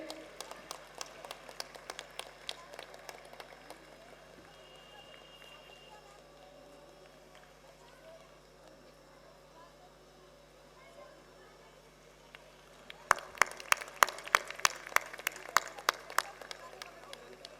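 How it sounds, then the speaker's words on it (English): An audience claps for honourees at a school annual function, heard as dense, sharp hand claps that fade to a lull, then swell loudly again near the end, with a voice speaking over a PA. "Huge round of applause, ladies and gentlemen."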